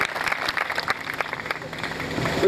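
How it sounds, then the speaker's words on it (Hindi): An audience at a healing convention claps for Jesus, a brisk, close burst of many hands clapping at once, with a voice faintly audible through it. "Why not clap for Jesus for him?"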